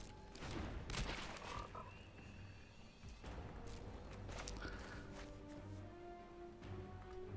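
A frog card entering play in the MTG Arena digital card game triggers a croaking frog sound effect, mixed with layered game music and interface chimes over several seconds.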